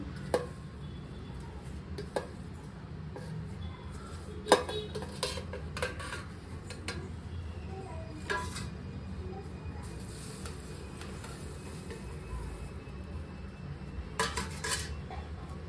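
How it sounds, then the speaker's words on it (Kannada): Dried flowers, camphor, cinnamon and cloves go into a mixer jar for homemade dhoop, with scattered clinks and taps of spoon and container against a steelware jar and faint room noise between the knocks. "ಇವಾಗ ಒಂದು ಮಿಕ್ಸಿ ಜಾರ್ಗೆ ನಾವು ತೊಗೊಂಡಿರುವಂತಹ ಇಂಗ್ರೀಡಿಯನ್ಸ್ ಎಲ್ಲ ಹಾಕೊತ ಇದ್ದೀನಿ"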